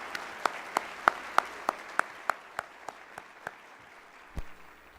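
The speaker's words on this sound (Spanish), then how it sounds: "brillantemente por Elías Neira, a quien sí le pido por favor un fuerte aplauso porque ha sido un gran trabajo." An audience at the closing session of an education conference claps in a slow, even rhythm, about a dozen crisp claps that gradually fade.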